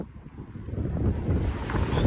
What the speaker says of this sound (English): Wow, guys, it's really windy.